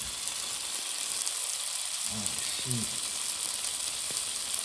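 Chicken drumsticks fry in hot oil in a home kitchen, giving a steady, dense sizzle and crackle that runs throughout, close up, with a few brief louder pops and a short stirring or flipping sound midway.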